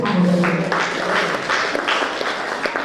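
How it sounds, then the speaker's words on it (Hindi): Applause at a Jagannath-themed book gathering in Odisha, a scattered crowd clapping in uneven bursts for a few seconds after a tonal note at the start. "अगर सहमत हो तो जोरदार तालियां"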